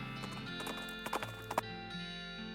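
A horse in the West of Loathing video game clops along and then gives a spooked whinny, quiet clip-clop hoofbeats over a steady game-music drone, with no voices.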